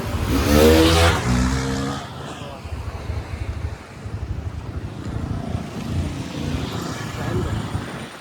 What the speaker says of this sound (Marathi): ट्रॅफिक बघा ही आहे आजची संडे नाईटची ट्रॅफिक